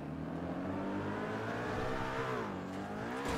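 Engine of a big car speeding in the video game GTA, a loud sustained revving roar that rises in pitch and dips toward the end, with no talk over it.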